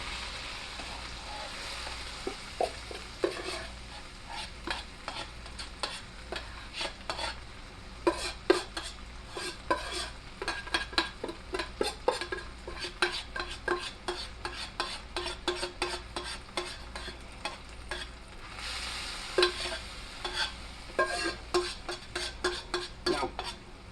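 Stir-frying in hot oil for spicy chicken and vegetable fried rice: a continuous sizzle broken by frequent sharp clicks and scrapes of a utensil against the pan, close and busy throughout, with no talking.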